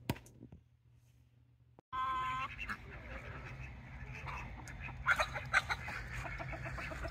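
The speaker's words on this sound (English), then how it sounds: "I was here with the chickens, my mom's chickens, using up the spent grain." Backyard chickens cluck and chatter close by while being fed spent brewing grain left over from an imperial stout batch. A short quiet stretch comes first, then several overlapping birds call steadily against outdoor background noise.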